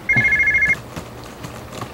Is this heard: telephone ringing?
yes